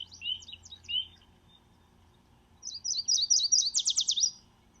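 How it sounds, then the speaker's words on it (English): A yellow warbler sings in a natural habitat, giving a couple of short, sweet chirped phrases followed after a pause by a brighter, rapid run of clear whistled notes, fairly close and alone. "And yellow warblers, the word association is sweet, sweet, sweet."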